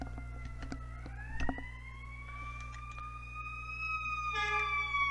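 Ambulance siren wailing outside, rising and holding a long smooth tone, distant and fairly faint over a steady background hum.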